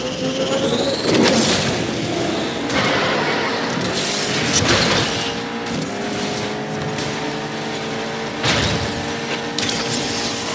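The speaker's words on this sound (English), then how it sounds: "This car engine sounds like the same sound like the Bugatti Chiron" Roaring race car engine in Asphalt 9: Legends, sounding like a Bugatti Chiron, a loud sustained drone with rising gear tones and several sharp crashes or impacts breaking through the steady roar.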